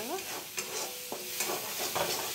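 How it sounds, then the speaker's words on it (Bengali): Spice paste fries in oil in a pan, a continuous sizzle with scraping stirs. Close and moderately loud, with no talk. "এই যে মশলাটা একদম ভাজা হয়ে গেছে"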